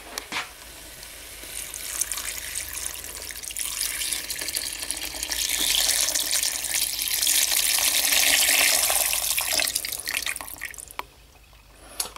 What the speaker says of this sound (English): now what I'm going to do is I'm going to add the water in there